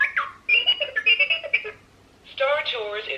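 A Star Tours Star Speeder toy plays its electronic sound effect: bright, tonal beeps and warbling synthetic bursts in two close, fairly loud passages separated by a brief pause.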